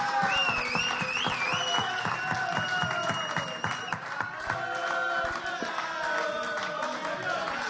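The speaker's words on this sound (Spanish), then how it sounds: "Fuerte aplauso para" Applause from an audience at a book presentation about rock and politics, dense clapping mixed with crowd noise and music-like tones, steady and loud throughout.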